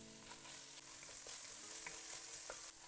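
Meat and onion fry in oil in a kazan for a Kazakh home dinner, a quiet, steady close sizzle with occasional light stirring clicks and no talk.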